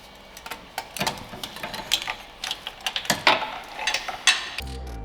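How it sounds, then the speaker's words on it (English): Ratchet on an extension bar tightening a bolt on a car during a turbo install, a quiet series of quick clicking bursts in uneven runs, close by. "I'm gonna get an extension to go across and then try and tighten that up."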